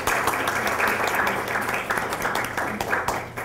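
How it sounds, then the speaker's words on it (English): An audience applauds at an oral history event, a moderately loud, even wash of clapping that continues steadily for a few seconds. "So let's give them an applause."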